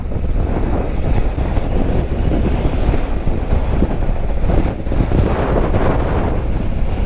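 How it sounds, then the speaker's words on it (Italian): Strong wind buffeting the microphone of a motorcycle crossing a dam over a reservoir in the Aosta Valley, a loud, steady broadband roar with gusty swells and no talking. "Qui il vento si sente"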